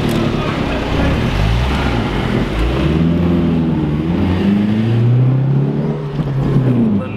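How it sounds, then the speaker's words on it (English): A car's engine and road noise carry steadily through the cabin on a French toll road, a constant loud drone with rising and falling engine tones, and people talk over it throughout. "Noise of this car."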